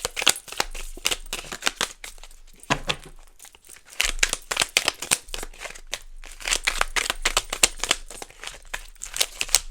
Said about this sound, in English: This is a new deck, so it's like hard to shuffle.